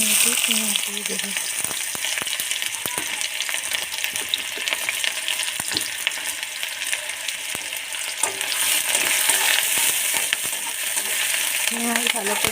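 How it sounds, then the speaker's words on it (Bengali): Onions fry in hot oil in a kadai, a continuous close sizzle with repeated stirring scrapes and taps of a spatula against the pan. "পেঁয়াজ ভালো করে ভেজে নেব"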